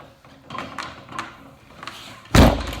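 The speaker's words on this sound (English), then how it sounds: "and then I'm gonna slam the door" A door slams shut over a sock door anchor: several soft bumps and handling noises lead into one loud, heavy thud near the end, close and alone.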